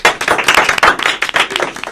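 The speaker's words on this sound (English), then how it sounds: "Let's clap it up." A few people clap together for a couple of seconds, a close, irregular patter of hand claps on a casual podcast set, with no talking over it.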